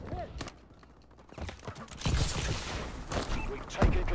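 Turret gunfire rattles in Call of Duty: Advanced Warfare, with scattered sharp shots early on and then a louder, denser burst of fire over game ambience.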